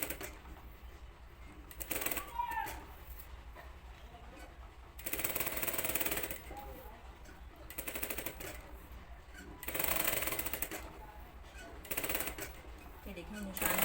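A sewing machine stitches white silk thread along marked lines on a dress neckline, running in several short bursts of rapid mechanical rattling separated by quieter pauses, fairly close and moderately loud.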